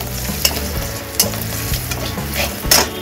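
Whole cumin seeds, bay leaf and dried red chilies sizzle steadily in hot oil, a dense crackling hiss with a few sharper pops and light stirring scrapes, close and continuous with no talk.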